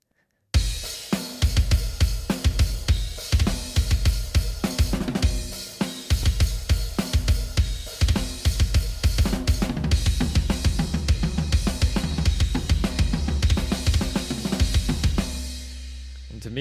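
A MIDI drum pattern from Superior Drummer 3 built around a massive layered kick, played steadily with busy cymbals and other drums for about fifteen seconds before fading on a sustained ring.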